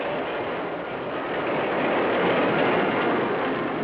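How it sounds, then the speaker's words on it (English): Steady, loud rumbling roar of a train thundering across open country, a dense broadband rush that holds constant and swells slightly toward the end, with no voices. "Trains cross the continent in a swirl of dust and thunder"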